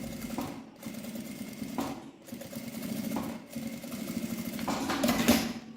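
A sewing machine runs in steady bursts while stitching a finishing seam around the edge of a small fabric wallet, a close, continuous mechanical whir that pauses briefly several times.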